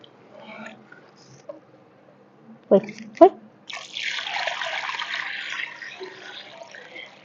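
Water is poured into a tub for planting lotus and water lilies, a steady splashing pour lasting a few seconds after a couple of sharp knocks, with faint talk at the start.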